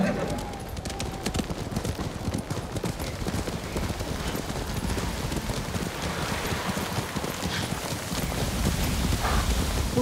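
Horse hooves pound steadily in the samurai video game Ghost of Tsushima, a rapid galloping clatter through snowy, stormy weather with wind and rain-like noise, while a voice talks over it.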